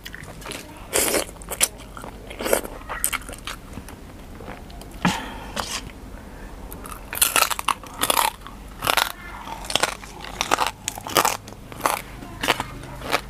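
Crispy fried pork leg being bitten and chewed up close, a series of loud, sharp crunches and crackles in irregular bursts with short quiet gaps between them.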